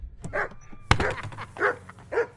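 A dog in Kingdom Come Deliverance II barks several times at close range, with one sharp loud bark in the middle among softer, spaced woofs.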